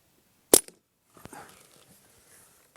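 A single sharp crack from a Barra 1866 lever action BB rifle at a 15-yard range, loud and close, followed by faint clatter and quiet handling noise.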